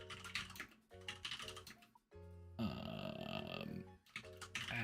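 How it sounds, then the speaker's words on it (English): Bursts of clattering computer keyboard typing come in uneven runs with pauses, broken by low voiced grunts and hums close to the microphone. "The typing today is miserable. Worse than normal."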